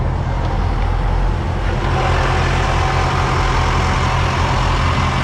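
A boat's engine runs at a steady idle, a loud, close, continuous low rumble with constant throbbing and no change in pace.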